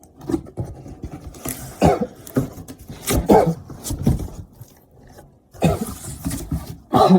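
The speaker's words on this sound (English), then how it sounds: "Excuse my coughing in the background." A man coughing in a garage workspace, several rough, throaty bursts at irregular intervals, close and fairly loud.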